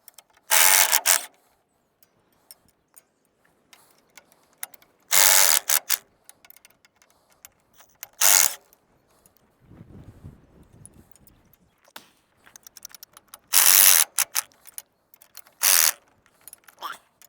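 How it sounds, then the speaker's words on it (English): Ratchet with a wobble socket turning while fixing a rake, in several short bursts of rapid clicking separated by quiet pauses, close and fairly loud. "I need to get my wobble socket to actually get up in there a little bit better."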